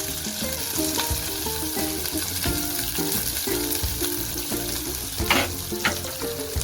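Onion frying with green chillies in a pan for shepu bhaji, a continuous close sizzle with stirring scrapes and a brief louder burst near the end, over faint background music.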